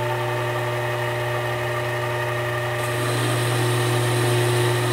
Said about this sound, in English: Okay, I'm going to start up the lathe